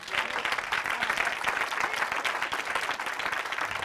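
Applause from a live studio audience fills the whole stretch, a dense, steady wash of many hands clapping at even loudness with no break.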